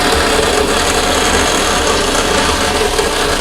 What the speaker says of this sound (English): all I'm doing is taking this here vertical bandsaw